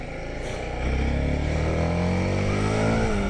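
TVS Apache sports motorcycle ridden on a circuit in urban mode, a close, steady engine hum that grows louder after a moment and holds an even, slowly rising drone.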